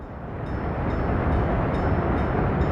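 A bitumen train in the Workers & Resources: Soviet Republic game rumbles past at a steady, loud level, a dense continuous rolling rail noise with faint periodic clicks.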